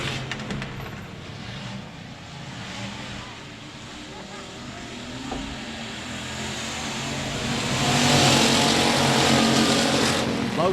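Factory stock race cars roar along the back straightaway of a dirt speedway in Texarkana, a steady distant engine drone that swells louder toward the end as the pack draws nearer.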